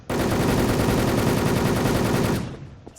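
Rapid automatic gunfire from the video game Wolfteam rattles in one sustained, loud burst of about two seconds, then cuts off, leaving a faint tail.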